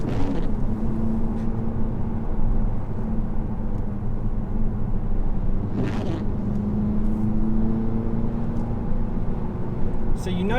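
A Mk3 Audi TT coupe driving on a country road, heard from inside as a steady engine drone with rising and falling pitch while someone talks over it from time to time.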